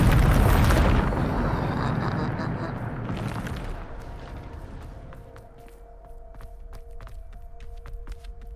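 A Bombarda blasting spell explodes in the Hogwarts Legacy video game, a loud deep boom right at the start that rolls and rumbles away into a fading low hum, with a faint tonal drone and light clicks near the end.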